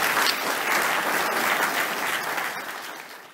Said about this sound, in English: I think we should give Martin a round of applause for that